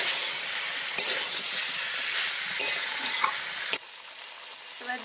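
Giant river prawns fry and get stirred in a hot pan, a loud continuous sizzle with scraping and stirring clatter, one sharp knock near the end before the frying quiets. No one speaks.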